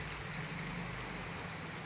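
Steady rain falls continuously at a home where water has been pooling after days of downpour, making an even, unbroken hiss with no voices present.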